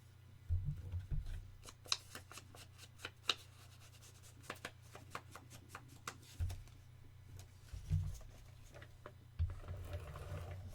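Scissors cutting paper for a craft album, a series of quiet sharp snips scattered across the stretch with soft rustling and handling noises between them, no voices.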